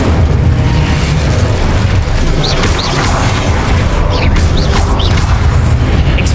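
The Incendio fire spell in Hogwarts Legacy releases a loud, continuous roaring blast of flame with booming, crashing bursts throughout.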